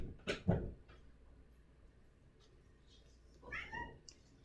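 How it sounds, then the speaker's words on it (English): A small cat meows twice, a short high cry near the start and another a few seconds later, with quiet room noise between. "if you hear the meow, it's a kitten"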